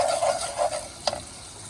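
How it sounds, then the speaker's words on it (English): A utensil scrapes and stirs brown sugar into melted butter in a pan, with a few short scraping strokes and a sharp clink near the end over a soft sizzle. "We're gonna mix it in good with that butter"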